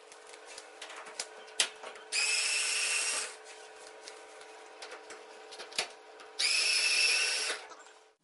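A power drill backs screws out of an LG dryer panel in two loud, steady whirring bursts of about a second each, separated by quieter clicks and handling noises.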